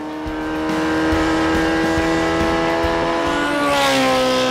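A 1300cc race car engine screams at high revs through the brake test area on the Pikes Peak hill climb, a loud, steady, close howl that climbs in pitch near the end.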